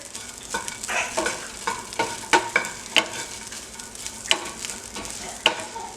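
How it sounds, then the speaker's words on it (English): Real bacon bits crisping in a pan, a steady sizzle broken by sharp pops and crackles at irregular intervals, close and moderately loud. "I'll just cook the bacon bits until they get a little bit crispier."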